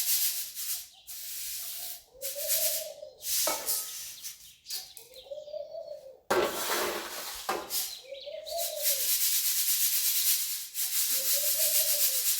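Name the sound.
pigeons cooing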